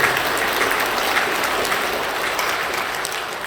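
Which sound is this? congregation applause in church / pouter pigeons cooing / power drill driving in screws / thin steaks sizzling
congregation applause in church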